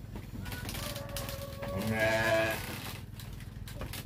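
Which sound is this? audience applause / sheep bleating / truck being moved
sheep bleating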